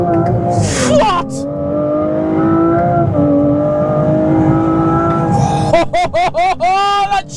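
Aston Martin Vanquish with an 835-horsepower turbocharged V12 revs hard and loud, holding a sustained high roar before a rapid series of sharp blips near the end.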